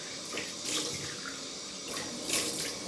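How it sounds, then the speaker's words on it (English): Cold water running from a tap while someone rinses off after a shave, a soft continuous stream broken by a few brief louder splashes as hands move through it. "I'm gonna wash off with cold water, as I always do"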